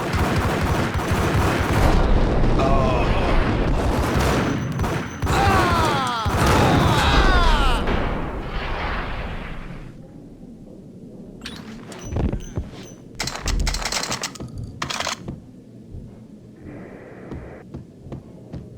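Loud bursts of gunfire and crashing impacts in the video game Max Payne, with dense overlapping shots at first, then scattered, sharper single reports and clatter after a lull.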